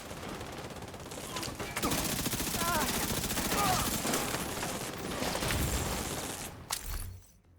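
Automatic weapon fire in a video game comes as sustained rapid bursts at close range. Dense and loud, it runs for several seconds before cutting off sharply, with a few tonal game effects woven in.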